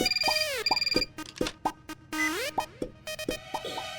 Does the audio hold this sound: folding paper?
no